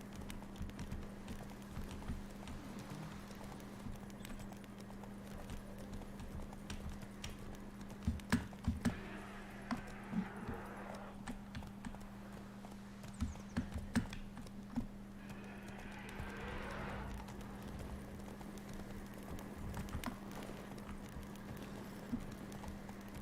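Hoofbeats from the horse Roach running in The Witcher 3, faint irregular clip-clop taps over a low steady hum, with no talking.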